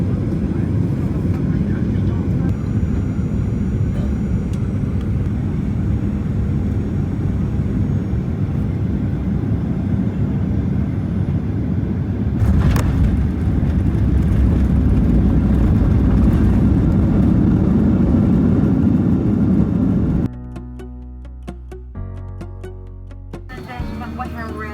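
Steady, loud airplane cabin roar during a flight across western China from Tibet to Xinjiang, a continuous engine drone that drops off near the end as a cabin announcement begins.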